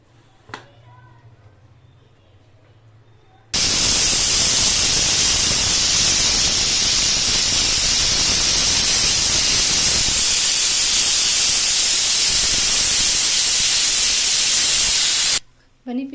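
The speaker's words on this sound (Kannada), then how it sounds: "ಈ ಹಂತಕ್ಕೆ ಕುಕ್ಕರ್ನ ಮುಚ್ಚಿ ಎರಡು ವಿಸಿಲ್ಗೆ ಕುಗ್ಗಿಸ್ಕೋತೀನಿ" Pressure cooker releasing steam while cooking tomato bath: after a quiet start, a loud, sustained broadband hiss bursts on and holds for about twelve seconds before cutting off abruptly.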